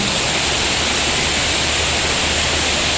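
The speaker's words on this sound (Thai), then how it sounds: "น้ำไหลนะคะ" Steady, dense rush of falling water, broadband and unbroken throughout, like standing close to a waterfall.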